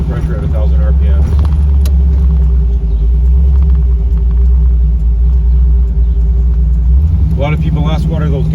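A swapped LS3 416 V8 in a 1981 Trans Am lopes along at about 1,000 RPM, producing a loud, steady deep rumble inside the cabin, with someone speaking over it toward the end.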